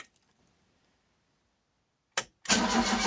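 A Ford Cortina Mk3 Estate fitted with a TeeCee carburetor gives a short crank, then its engine catches and runs loudly and steadily after a few faint clicks and near silence.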